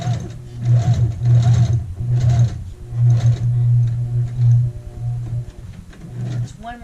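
Sewing machine stitching a skirt waistband, wrong side to right side, running in short repeated bursts of steady mechanical whirring with brief pauses, ending with a few slow back stitches, close and clear with faint quiet talk between runs.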